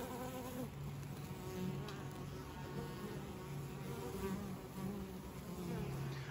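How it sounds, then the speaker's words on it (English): Honey bees buzz at a busy five-frame nucleus hive entrance as foragers fly in and out carrying pollen, a soft continuous hum of many wings close by with no talking. "a lot of bees coming in with a good amount of pollen"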